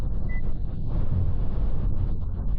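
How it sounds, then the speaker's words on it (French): Steady broadband wind roar rushes past a Dacia Duster Hybrid-G 150 4x4 at 130 km/h, constant and fairly loud, with a low rumbling undertone and no voices. "c'est juste le bruit du vent de l'extérieur"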